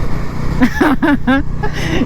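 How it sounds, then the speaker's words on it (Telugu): Inside an APSRTC government bus on the road near Vijayawada, a steady low engine drone and road rumble run through the cabin while people talk over it. "ఏపీఎస్ఆర్టీసీ బస్సు ఇది."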